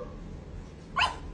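A single short bark from a dog giving voice on command indoors, one close, sharp yap rising briefly out of quiet room tone.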